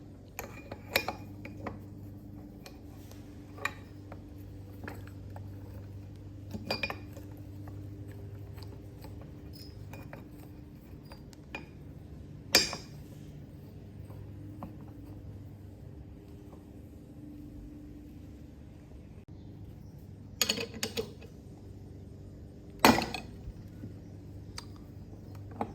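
Lawn Boy 3052 mower flywheel pulled off with a puller during a restoration, scattered sharp metallic clicks, clinks and taps of tools on metal over a low steady hum, sparse and moderately quiet with no talk.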